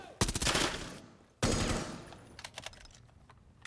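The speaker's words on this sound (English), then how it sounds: "Just a couple of bullets sent each other's way, but nothing hits" Two bursts of gunfire in a competitive SSL esports finals match, each a loud sharp rattle of rapid shots trailing off, followed by a few faint scattered shots.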